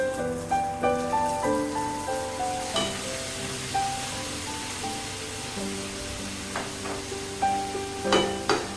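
Chicken and vegetables sizzle in a pan with chilli sauce and dark soy sauce for a chicken spring roll filling, a steady hiss with repeated soft stirring scrapes, while a music track plays throughout.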